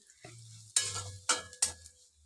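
Vegetables stirred and fried in a small pan make a faint sizzle under three sharp, close scraping strokes of a spatula, each one loud and followed by a short crackle before it fades.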